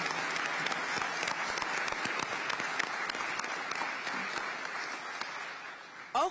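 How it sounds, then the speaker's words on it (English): A crowd at an Oakland mayoral swearing-in ceremony applauds its council members with sustained, moderately distant clapping and sharp individual claps, ending in a short burst of voice. "Give our council members a round of applause."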